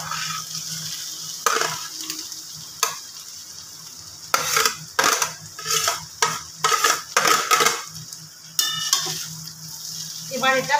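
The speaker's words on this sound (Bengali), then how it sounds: "এবার ভালো করে নাড়াচাড়া করে কিছুটা ভাত আমি কড়ার মধ্যে দিয়ে দেব।" Rice is stirred and fried in a wok, giving repeated close scraping and clattering stir strokes over a continuous sizzle, with short pauses between strokes.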